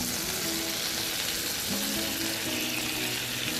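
Butter and white flour sizzle steadily in a pan for a white sauce, a continuous close frying hiss with faint stirring scrapes and no voices.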